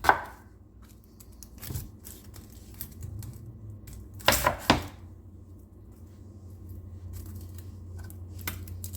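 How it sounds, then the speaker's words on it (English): A knife cuts through sausage on a board in a quiet kitchen, with a handful of separate sharp chopping strokes, including a quick cluster near the middle, over a low background hum. "while I cut the sausage"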